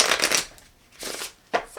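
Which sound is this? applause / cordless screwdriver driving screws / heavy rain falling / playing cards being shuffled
playing cards being shuffled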